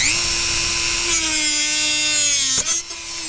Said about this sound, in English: We're just going to finish off this final cut with the Dremel.